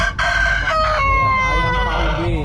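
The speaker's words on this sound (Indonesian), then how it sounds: "Oh, ini yang kokok terus tuh noh." A farm rooster crows loudly and close by in one long, drawn-out call, over steady background noise in a large garden plot in the city of Padang, West Sumatra.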